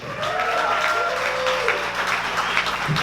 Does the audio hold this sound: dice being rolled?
no